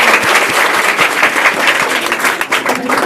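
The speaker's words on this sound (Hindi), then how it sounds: "एक जोरदार ताली हो जाए" Loud, dense applause from a room of students, sustained hand clapping with distinct individual claps popping out over the steady roar.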